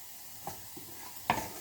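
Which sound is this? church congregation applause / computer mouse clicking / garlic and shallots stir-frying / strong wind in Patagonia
garlic and shallots stir-frying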